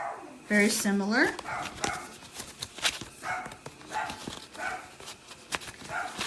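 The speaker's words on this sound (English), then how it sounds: "And I do apologize for the dog barking." Dog barking at the start, a couple of loud yelping barks close by, followed by a person talking through the rest.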